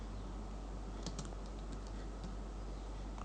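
Rapid keystrokes on a computer keyboard while a test post is written in a blogging editor, a quick irregular patter of soft clicks over a steady background hum, with no talking.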